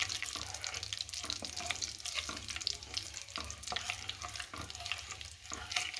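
Continuous scraping and swishing of a spoon stirring a homemade papaya face serum mixture in a pan over a low gas flame, steady and close with a faint sizzle beneath.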